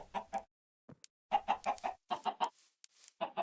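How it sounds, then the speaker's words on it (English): Minecraft chickens cluck in short, repeated bursts from a game, several clucks in quick succession with brief pauses between them, close and clear with no talking. "Chicken. 3 chickens. 4 chickens."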